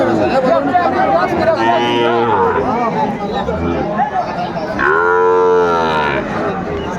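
A young Sahiwal calf moos twice at a cattle market, long drawn-out bleating calls, the second louder, over a steady background of crowd chatter and voices.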